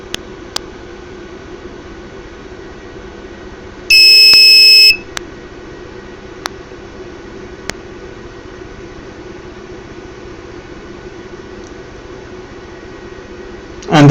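An ESP32-driven buzzer gives one loud, shrill tone lasting about a second amid a quiet room hum, with faint clicks before and after and a second burst starting at the very end.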